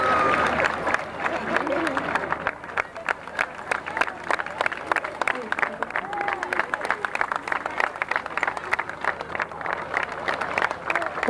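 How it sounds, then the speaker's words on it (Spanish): A festival crowd applauds a traditionalist Argentine gaucho group at a town fiesta in Benavidez, the clapping steady and dense for the whole stretch, with a voice speaking over it. "Un fuerte aplauso para ellos"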